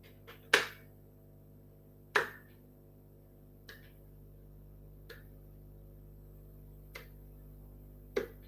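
A single person gives a slow clap, six sharp, separate hand claps spaced more than a second apart in a quiet room, the first two loudest and the later ones softer.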